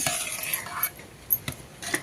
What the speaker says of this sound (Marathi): नारळाच्या तेलाला बघा छान उकळी आलेली आहे एकसारखं हलवत राहायचं आहे